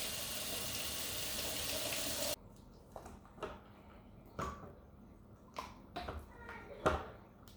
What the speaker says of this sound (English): I'll be running this down under water just to make sure it's easier for me to bring out the popsicle.